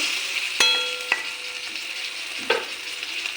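Duck egg being stirred into a cauliflower, potato and pea curry: a steady, even sizzle under a few sharp metal taps of a spoon against the pan, close by.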